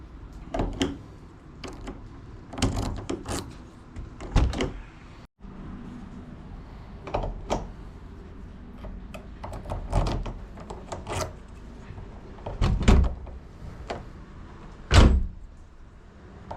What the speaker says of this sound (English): Okay, so door lock first of all.